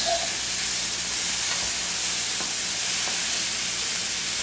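Vegetable succotash with diced tomatoes sizzles steadily in a pan while being stirred, a constant close hiss broken by a few soft scraping stir strokes, with no voices.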